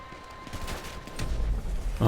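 Gunfire in GTA 5 during a bank robbery, a burst of rapid shots building to a loud blast at the end over a steady background hum.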